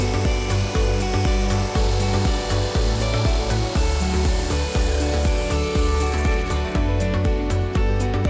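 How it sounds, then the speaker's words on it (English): Jigsaw cutting through two sheets taped together with double stick tape, a loud buzzing reciprocating blade chatter that runs steadily and close, with slight shifts in pitch as the cut progresses. "That's gonna probably have to be the jigsaw to cut that out."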